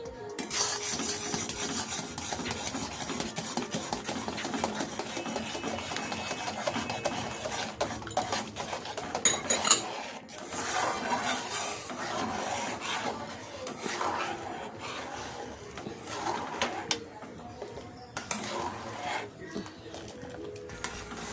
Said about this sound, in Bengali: এই চালের গুঁড়োটা আমি আস্তে আস্তে দিতে থাকবো আর দুধটা নাড়তে থাকবো